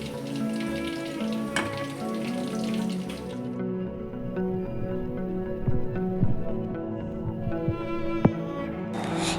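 Marinated chicken pakora fry in hot oil, a dense steady sizzle and crackle with occasional pops, close and fairly loud, with no talk.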